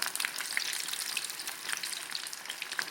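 Starch-coated shrimp fry in hot oil with a dense, crackling sizzle full of rapid pops and spatters, close up and continuous with no voices.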